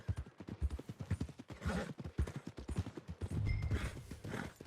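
Horse hooves clip-clop in Red Dead Redemption 2 as a rider heads toward the stables, a quick, steady run of close, hollow thuds that carries on throughout with some rumbling underneath.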